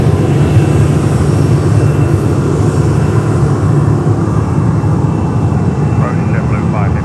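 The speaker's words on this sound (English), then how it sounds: "Frontier is coming in with another 320 Neo" A Frontier Airbus A320neo jet on arrival at Fort Lauderdale airport roars as a loud, broad, continuous engine rumble that fills the whole stretch, with voices talking over it.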